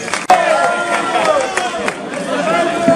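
Applause and crowd noise ring out at the San Benito pilgrimage (romería) in Cañaveral, a dense, steady wash of clapping and chatter from a gathered crowd, fairly close.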